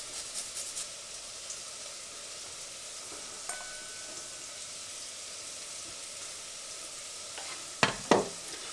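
Onions, carrots and grated garlic sizzle gently in a pan under a quiet, even hiss, with a few faint clinks and two sharper scraping knocks of a utensil stirring near the end.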